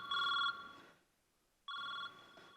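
A mobile phone rings indoors, two electronic ringtone bursts separated by a short pause, fairly close and alone without talk.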